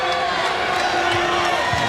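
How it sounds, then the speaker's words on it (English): Volleyball arena crowd at a men's match between Hawaii and USC, a dense, continuous roar of many voices with scattered whoops and shouts, steady and loud throughout. "And now the crowd getting a little worked up, a little anxious here."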